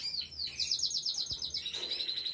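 A caged bird sings close by, a bright warbling trill of rapid repeated notes that rises, pulses steadily for about a second, then settles into a thinner sustained whistle, with a single soft tap in the middle.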